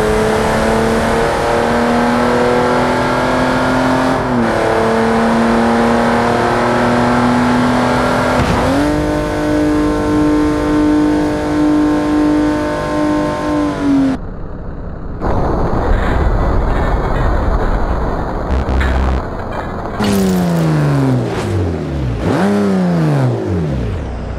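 Toyota Supra in a racing video game, engine revving up through rising gear pulls with shifts, then a crash-like burst and squealing, sweeping tones, loud and continuous.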